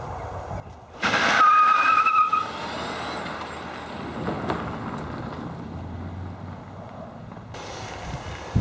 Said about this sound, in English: So I should be able to spin the front wheels in 1st gear.